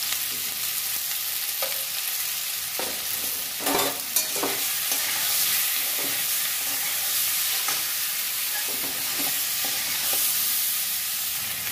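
Raw banana pieces with salt and turmeric fry in a pan with a constant crackling sizzle. Scattered spatula scrapes and knocks sound throughout, up close and with no voices.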